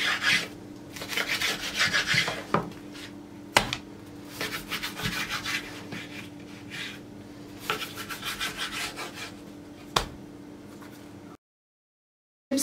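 A knife slices three gözleme flatbreads on a wooden board, making repeated close scraping and rasping strokes with a few sharp knocks, then a sudden stop with no talk.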